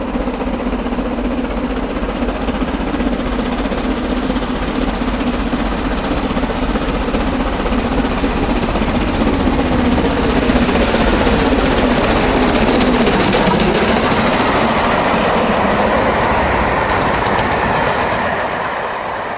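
Sunny South Express steam locomotive train passing at Shawford near Winchester, heading for Waterloo; a loud, steady rumble of wheels and carriages rolls past for the whole stretch, with rhythmic clickety-clack over the rails and no voices.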